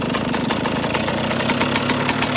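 A cold engine runs at a steady idle after priming, with a fast, even chugging pulse that stays loud and close and carries no talk.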